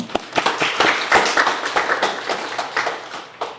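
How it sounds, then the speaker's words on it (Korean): Students at a university semester-opening gathering clap together, a dense patter of hand claps running steadily without voices. "박수 한번 칠까요?"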